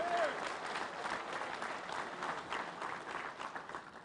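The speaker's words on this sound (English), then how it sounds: "Please give them a round of applause for this display of solidarity we have today." Applause from an audience at an outdoor union rally, a steady wash of clapping heard at a moderate distance with crowd noise mixed in.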